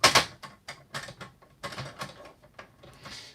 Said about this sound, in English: And then lock the door with the key.